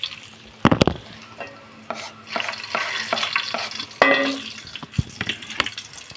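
Garlic sizzling in hot oil, a steady fry with sharp clacks of a wooden spoon stirring the pan and some watery crackle, close and fairly loud, no voices.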